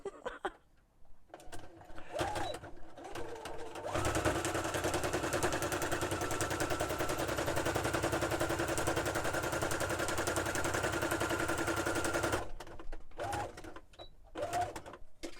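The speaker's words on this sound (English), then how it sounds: "I'm going to stitch it along the inside so that I can see" Sewing machine stitching through a journal, a close, steady rapid mechanical rattle lasting several seconds, with brief starts and stops of the machine before and after.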